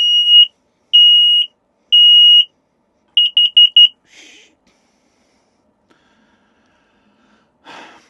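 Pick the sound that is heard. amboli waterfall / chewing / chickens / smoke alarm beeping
smoke alarm beeping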